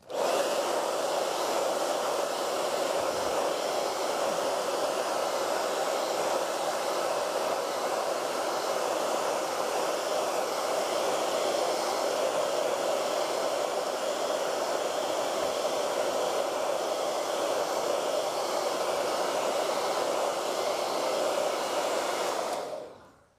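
A hair dryer blows steadily on an acrylic painting, a loud continuous whooshing hum that holds for over twenty seconds and then cuts off abruptly, with no talk.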